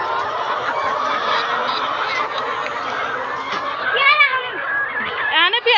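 A flock of laying hens on a farm clucks and chatters continuously at close range, with human voices mixed in and a few sharper calls near the end.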